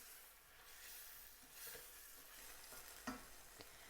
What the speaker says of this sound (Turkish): Yine kavurmaya devam edelim. Soğan iyice öldüreceğiz. İyice kavuracağız.